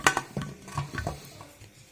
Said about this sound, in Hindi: अब प्रेशर कुकर को हम बंद कर देंगे।